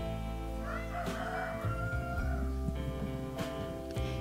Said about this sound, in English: This is such a pretty cat.